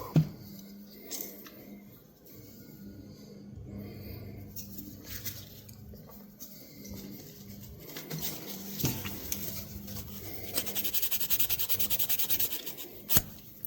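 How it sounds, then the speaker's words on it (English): Vintage blade rubbed with a Scotch-Brite pad, giving a close, scratchy rubbing that builds into steady abrasive strokes with a few sharp knocks, quiet overall. "Quick rub with Scotch-Brite."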